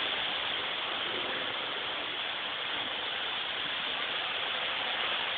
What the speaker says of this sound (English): the heavy-duty floor scrubber